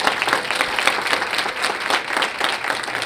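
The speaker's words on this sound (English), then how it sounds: "give them applause." A crowd at a bowling tournament's opening ceremony, the State Women's Open, claps together in a full, lively burst of applause that stays fairly even and close, with no speech over it.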